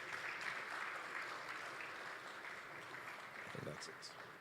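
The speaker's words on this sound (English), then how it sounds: "let's give our panelists a round of applause" An audience applauds the panelists at a family business conference in Lagos, a steady, broad wash of clapping that holds throughout with a brief voice surfacing near the end.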